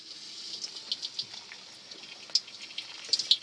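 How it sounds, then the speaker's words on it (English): A small clump of dough dropped into hot frying oil for a traditional Myanmar dish sizzles with a steady crackling hiss, scattered sharp pops rising toward the end. "Just grab a little clump like that and throw it in the hot oil."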